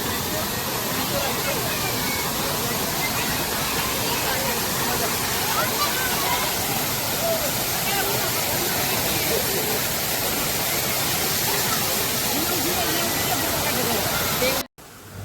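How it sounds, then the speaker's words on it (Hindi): Constant rushing splash of a small artificial waterfall, steady and close, filling the whole stretch before cutting off abruptly near the end. "इस प्यारे से झरने की आवाज़ सुन के ना जितनी भी थकान हुई थी ना, सब गायब हो गई थी।"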